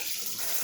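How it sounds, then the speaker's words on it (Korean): Tap water runs from a faucet in a bathroom, a steady hissing splash heard close up and alone for a brief moment. "그냥 수돗물, 수도 꼭지에서 나오는 거고"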